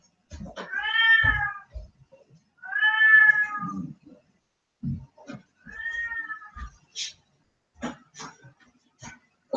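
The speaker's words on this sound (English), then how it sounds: "my cat is wailing in the background" Domestic cat wailing indoors in the background, three long drawn-out meows with pauses between, followed by quieter scattered knocks and thumps.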